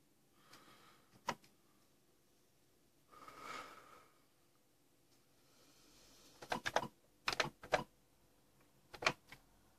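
Keys tapped on an Atari 130XE computer keyboard, a few sparse, sharp clicks in scattered clusters, with a soft breathy noise midway, all faint and close.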